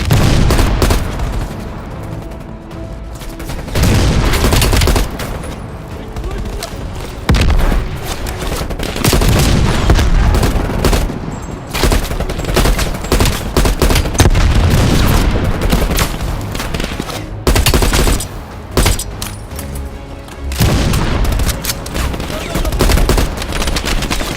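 Call of Duty: Black Ops Cold War combat with RPG blasts and dense gunfire: continuous loud rattling bursts and booming impacts across the whole stretch, with brief lulls and shouted voices mixed in.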